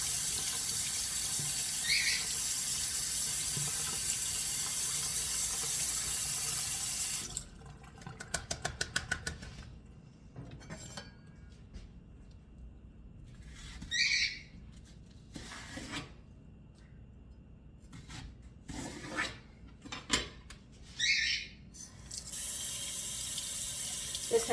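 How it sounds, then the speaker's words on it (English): Leeks rinsed under a running kitchen tap, water gushing steadily, then stopping for stretches of rubbing and scraping of the stalks with short bursts of flow, before the faucet runs full again. "I'm just rinsing some of the dirt off before I get to cleaning the dirt out of it."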